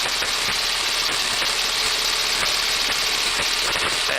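A T6 Texan airplane engine roars at takeoff power from inside the aircraft, loud, continuous and rough with a throbbing pulse.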